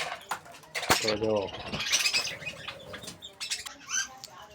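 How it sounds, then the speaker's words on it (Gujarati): A pigeon at a mini zoo beating its wings in a sudden close flurry, followed by rustling and soft chirps, with people talking nearby. "એને કબૂતર બતાવ્યું"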